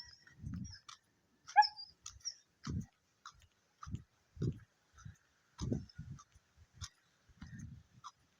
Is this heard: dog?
yes